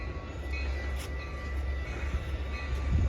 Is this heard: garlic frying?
no